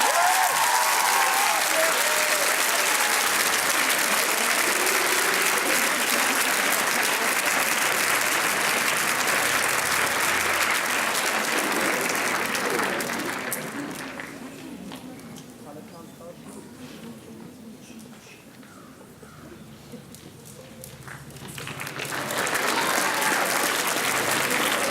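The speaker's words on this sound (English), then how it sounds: "You each deserve special applause" Sustained applause from the audience at a school academic awards ceremony, a broad continuous clapping wash that dips softer for several seconds in the middle before swelling back to full volume.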